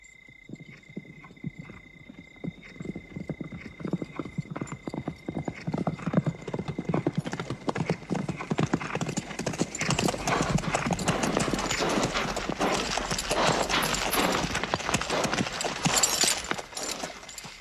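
Many hooves of an army's hundreds of horses clattering in a dense, galloping rush that builds louder over time, with a few horse whinnies rising above the drumming.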